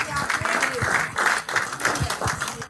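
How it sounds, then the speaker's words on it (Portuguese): A church congregation applauds during a Portuguese-language service, a brief burst of clapping with voices mixed into it, fairly close and steady before cutting off. "Vocês podem aplaudir o Senhor nesta tarde"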